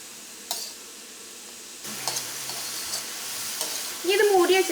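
Cabbage and carrot thoran with grated coconut and salt being stirred in a pan, a soft scraping and sizzle with a few light clinks, growing a little louder toward the end.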